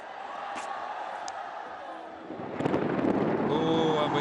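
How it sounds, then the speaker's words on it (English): Lightning cracks and thunder claps over a cricket ground during a T20 World Cup match: a sudden loud rumbling burst arrives midway, rising over crowd noise and a commentator's voice. "we've had a crack of lightning and a thunder clap"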